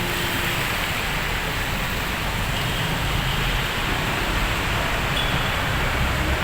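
Steady, dense rain hiss fills the whole recording, loud and unbroken, with no voices or other distinct sounds above it.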